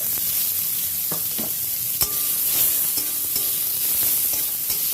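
Chopped onion frying with dried red chilli and bay leaf in a pan, a loud steady sizzle with scattered sharp crackles and spatters and a few stirring knocks, no voices.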